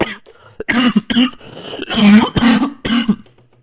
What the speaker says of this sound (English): the coughing just kicked in.